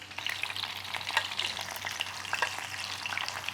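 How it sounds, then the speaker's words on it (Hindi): Chicken pieces fry in hot oil on a low-medium flame until crispy, giving a steady close sizzle with bright crackling pops and occasional stirring, no voices. "सब तरफ से हमने बहुत अच्छा चिकन को फ्राई किया।"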